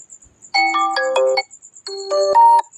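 A WhatsApp notification tone chimes from a phone in two short melodic bursts of bright electronic notes separated by a brief pause, clear and close with no speech.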